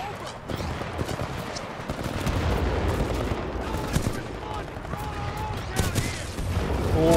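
Dense gunfire in the Titanfall 2 video game, rapid shots and bursts layered over a busy battle bed at steady high loudness throughout, with a voice talking over it.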